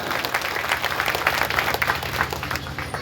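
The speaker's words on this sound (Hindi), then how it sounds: "ईमानदारी से आप लोग ताली बजा करके इस बच्चे लोगों के लिए आप स्वागत करें" A crowd at a political gathering applauds to welcome a young team, a steady, dense roar of many hands clapping together, sustained and evenly loud throughout without talk.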